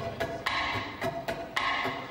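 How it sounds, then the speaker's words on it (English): Percussive clicks tapped on a ukulele, four sharp broadband hits spaced about half a second apart, close and clear with no voices. "there's other kind of click sounds that we can do on the ukulele here"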